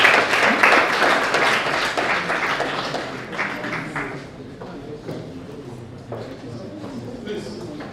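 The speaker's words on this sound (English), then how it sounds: "He's a round of applause." At an academic ceremony, a crowd gives a dean from a faculty of social sciences a round of applause: loud, dense clapping that slowly thins, with voices faintly mixed in.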